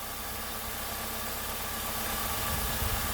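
A GM 2.4-litre twin cam car engine idling steadily after a spark plug replacement, a close, even mechanical hum with slight vibration and no talk.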